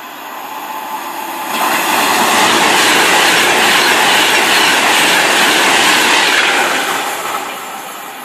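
A 12-carriage London Midland train bound for Northampton passes through Tring station on the West Coast Main Line, building from a steady rumble to a loud, sustained roar of wheels and rail clatter before easing slightly at the end.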